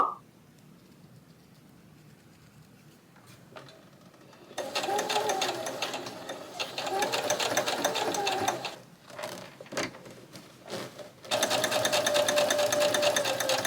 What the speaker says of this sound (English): Back stitch for now to keep this in place.